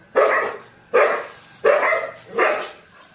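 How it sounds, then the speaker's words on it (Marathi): Four loud, evenly spaced dog barks close by, each short and sharp, with brief silences between them. "कुत्र्यांचा पण आवाज खूप."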